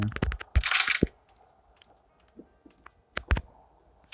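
Coins get collected in the Evil Nun Car Escape mobile game, giving a few sharp metallic jingles and clinks in quick bursts separated by quiet gaps.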